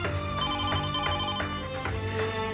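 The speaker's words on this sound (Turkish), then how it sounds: "Annen arıyor." A mobile phone rings with an incoming call, its melodic ringtone repeating in short rising phrases, loud and close, with no one speaking.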